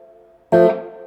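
An electric guitar played through a Tone King Imperial tube preamp with the reverb dwell turned all the way down: a soft held note, then a sharp, loud strummed chord that rings briefly and decays quickly with little reverb tail.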